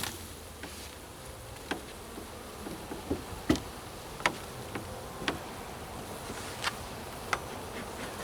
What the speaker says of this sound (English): But I hear bees inside.